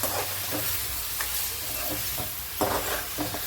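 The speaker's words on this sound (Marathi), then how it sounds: "घेऊ हलवून मस्त पैकी" Mutton coated in ginger garlic paste is stirred in a sizzling pan, with a steady frying hiss broken by several scraping strokes of a spoon, close and without voices.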